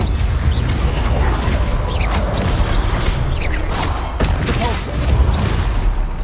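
Incendio fire spell cast during combat in the Hogwarts Legacy video game, loud whooshing flame bursts and crackling impacts mixed with rapid battle effects and sharp hits, continuous and busy throughout.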